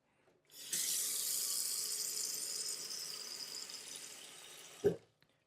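Tap water running steadily into a pot for boiling, a close, hissing gush that lasts several seconds before the faucet shuts off with a short clunk.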